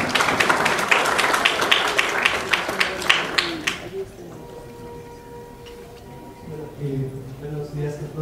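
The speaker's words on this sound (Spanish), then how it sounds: "Un aplauso." An audience at Zday Quito 2012 applauds, with a busy, moderately loud patter of clapping that stops after about four seconds, followed by someone speaking into a microphone.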